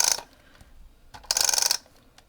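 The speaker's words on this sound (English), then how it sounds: "I'm just going to use tape runner for that" A tape runner rolls adhesive onto ribbon for a handmade card, giving two short bursts of close, ratcheting mechanical clicks separated by a brief quiet gap.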